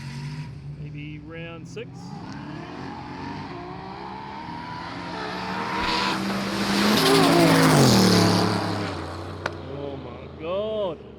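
A Nissan GT-R race car called BEAST35 roars through a run, its engine note rising and sweeping past loudly at a racing event, with tire noise and people talking and shouting over it.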